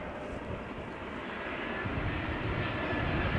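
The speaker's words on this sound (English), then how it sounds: "the German Leysieffer Chocolaterie Embraer 190 arriving from Stavanger." An Embraer 190 airliner arriving at Amsterdam Schiphol Airport, a distant engine roar that swells steadily as the jet approaches.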